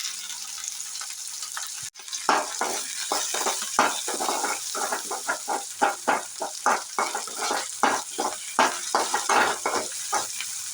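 Idli pieces and onions sizzle steadily in hot oil, with a rapid run of stirring scrapes from about two seconds on; no one speaks.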